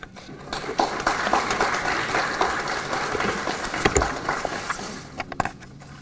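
An audience at a graduation pinning ceremony for education students gives a steady round of applause, a dense crackle of many hands clapping that runs for several seconds before thinning out.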